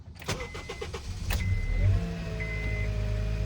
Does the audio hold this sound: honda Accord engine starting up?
yes